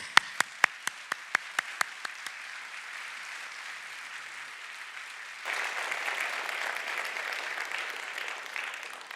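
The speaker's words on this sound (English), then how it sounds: "if people clap before you've said anything, it's tempting to just sit down" A few separate, sharp handclaps come first, then a pause, and then a full audience breaks into sustained applause to welcome Vinton Cerf to the stage for a talk on the internet.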